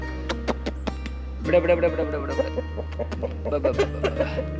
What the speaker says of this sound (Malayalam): നല്ല ഗിരിരാജ വർഗത്തിൽപ്പെട്ട നല്ല അടാർ കോഴികളാണ്